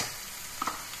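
Turmeric, chilli and salt sizzle as they are stirred in an oil-filled pan, a steady close hiss with a couple of brief scraping stirs partway through.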